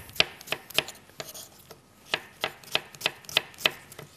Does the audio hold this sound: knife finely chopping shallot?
yes